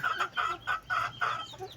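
A hen clucks repeatedly in a steady series of short, close, throaty calls, about five or six in under two seconds.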